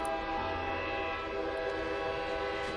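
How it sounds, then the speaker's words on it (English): A loud, sustained train whistle in the video game GFL2 Exilium blares steadily for the whole stretch as a fully loaded train lurches into motion, with a low rumbling rail noise beneath it. "there is a loud whistling as the fully loaded train lurches into motion"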